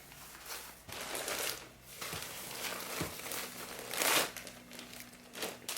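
A backdrop's bag is folded by hand, making soft crinkling and rustling swells with a few brief crackles, close and quiet with no talk.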